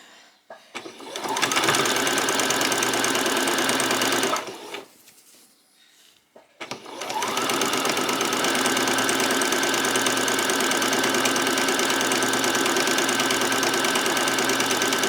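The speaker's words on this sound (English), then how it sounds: "Just finished there with the back stitch." Sewing machine running steadily while back stitching a doll's peasant top, a fast loud mechanical whir that pauses briefly midway and then resumes for a long continuous stretch.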